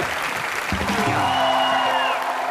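Studio audience applause on the Comedy Nights With Kapil set, a dense sustained wash of clapping for Kapil with musical tones rising partway through.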